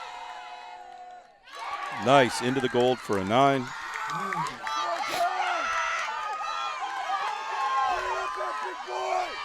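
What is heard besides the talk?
crowd cheering at archery collegiate nationals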